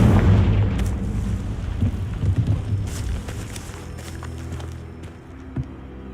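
A Confringo fire-spell explosion in the Hogwarts Legacy video game: a loud, deep booming rumble that rolls on and slowly fades over several seconds, with a small thud near the end.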